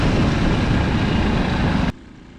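A small Honda Cub C200 motorcycle engine of about 90cc runs loud and steady close by, its busy buzzing drone holding constant until it cuts off abruptly near the end, leaving a faint hum.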